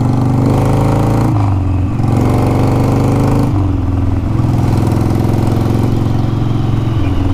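A Harley-Davidson Sportster engine rumbles steadily while the bike is ridden, loud and continuous, with a couple of shifts in pitch as the throttle changes.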